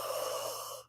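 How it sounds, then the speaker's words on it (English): One slow, close breath during a guided relaxation meditation, a soft airy rush that fades out at the end, with no talking. "I usually like to breathe in and out."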